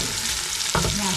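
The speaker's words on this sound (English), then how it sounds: "While the fried rice is getting going there" Fried rice frying in a hot pan at a birthday party cooking session, a steady loud sizzle that swells sharply partway through as stirring or fresh ingredients hit the pan.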